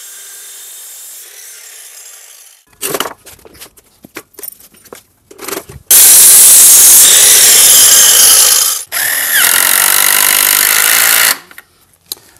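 A power saw cuts a piece off a wooden Swedish rabat cladding board on a carport: a few short bursts and scrapes first, then two long, loud, close runs of buzzing cutting separated by a brief pause, ending in quiet.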